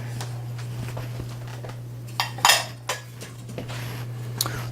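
Sugar is stirred into chicken adobo inside an Instant Pot, a spoon scraping and clinking against the metal inner pot in a few short bursts over a steady low electrical hum.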